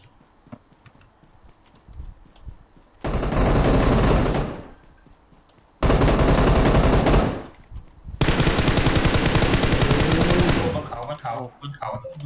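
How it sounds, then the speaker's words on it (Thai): Loud sniper and automatic gunfire in the online shooter WarZ, three long dense bursts of rapid shots close by, separated by short quieter gaps. "สไนยิงมาข้างหลัง"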